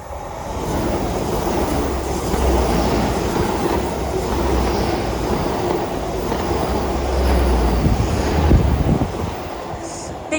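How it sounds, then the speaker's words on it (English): A Great Western Railway service from London Paddington to Penzance passes through Menheniot station in a loud, sustained rumble with rhythmic clickety-clack of wheels over the rails and a low engine drone, close and continuous. "Oh, we got a train passing through."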